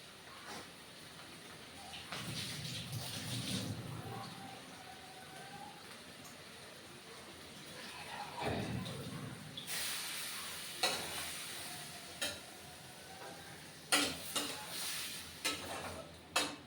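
Water splashed into a hot pan sets off bursts of loud sizzling and crackling at close range, rising and fading in waves, with occasional sharp pops toward the end and no talking.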